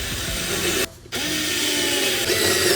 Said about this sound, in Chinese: 中间有个定位的锁上之后，就可以把旁边3只螺丝也锁上